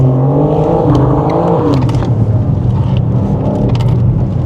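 A tuned, modified BMW M4 on a race track, its engine running loud and close with a steady throaty rumble and a few rising revs and shifts in tone.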